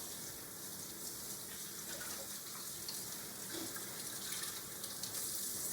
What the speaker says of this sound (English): you can stick them back under the water and wash all that soap off